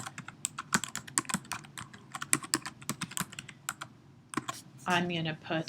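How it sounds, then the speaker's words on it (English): Typing a note on a computer keyboard: quick, close, irregular key clicks in bursts with short pauses, quiet overall, followed by a brief spoken voice at the end. "So I'm going to type a note"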